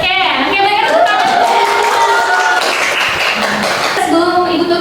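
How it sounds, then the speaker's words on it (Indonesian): A class of children in an Indonesian digital microteaching lesson clap their hands after a ranking is announced, the clapping mixed with loud children's voices and chatter throughout. "Oke, baik tepuk tangan."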